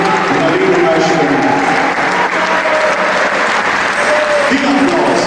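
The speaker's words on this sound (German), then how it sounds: "Viel Applaus." A theatre audience at a Cologne stage show gives loud, sustained applause, dense continuous clapping filling the room with some voices and cheers mixed in.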